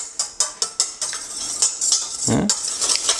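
Two whole eggs and an egg yolk are beaten in a bowl for cherry clafoutis batter. A few sharp, evenly spaced clinks give way to a steady, faster whisking clatter, close and clear.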